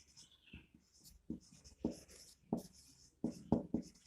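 Chalk or marker scratches across a classroom board during a Class 12 chemistry lesson, coming as short irregular strokes and taps in bursts, close and moderately loud, with no talking.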